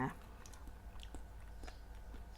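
Soft, close chewing and faint crunchy bites of a novelty cake shaped like a dog tick with a cream filling, quiet and slightly muffled against a low background hum.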